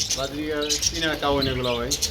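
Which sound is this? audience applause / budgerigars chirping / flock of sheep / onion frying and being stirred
budgerigars chirping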